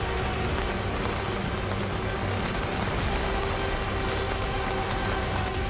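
Heavy record-breaking monsoon rain pours down in Guwahati, Assam, during flooding in northeast India, a dense, steady, unbroken hiss that stays loud and even throughout with no voices.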